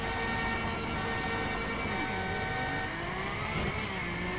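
A LaFerrari at full throttle in a racing video game, its engine screaming loud and steady as it revs and climbs through the gears without a pause, with no voices over it.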